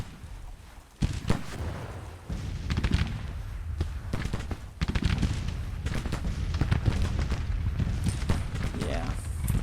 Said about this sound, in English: Howitzers, I'm going to have you start targeting the other batteries